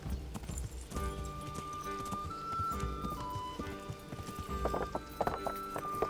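A horse's hooves clip-clop in a steady walking rhythm in the video game Kingdom Come Deliverance, moderately close, with a faint ambient tone running underneath.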